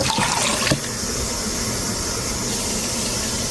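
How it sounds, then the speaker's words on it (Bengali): Water pours into a cooking pot at close range, a steady gushing fill with a couple of knocks at the start, continuing evenly throughout. "পাতিলটা ভরে দেবো"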